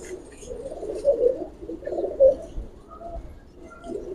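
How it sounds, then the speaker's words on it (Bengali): Silver Giribaz pigeons coo in soft, repeated low throaty phrases, close by and moderately loud, with a few brief swells and no talking. "এখানের কবুতরগুলো মাশাআল্লাহ অনেক সুন্দর কবুতর"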